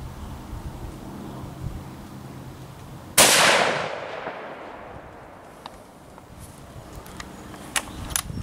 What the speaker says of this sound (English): last shot out of the 243